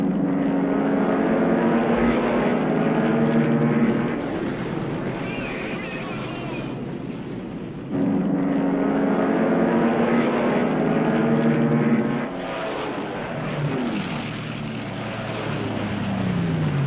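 Engines of light bomber aircraft in the War in the Pacific game drone steadily at moderate loudness, with propeller hum continuing under game effects throughout.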